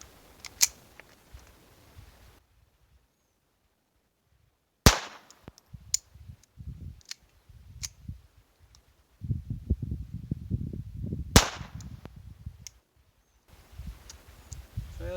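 Sharp, sudden .22 LR subsonic hollow point shots ring out from a semi-automatic firearm outdoors, a few separate cracks spaced far apart, with quiet handling noise and rustling between them.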